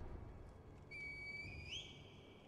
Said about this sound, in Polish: Wezwać boskiego potomka gwizdkiem.